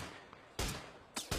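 Gunfire exchange during a PUBG esports match: a few sharp, broadband shot bursts in quick succession, the first alone and the last two close together, over a quiet background.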